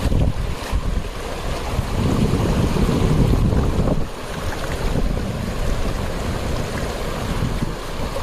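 Steady rushing river water roars over rocks near Jim Corbett National Park, a broad continuous wash with a gusty, wind-buffeted edge and no voices.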